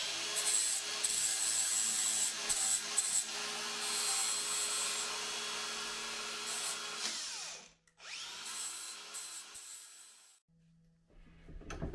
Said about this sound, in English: I'm just going to take the burr off of these just so they're nice and clean when we come to weld them on.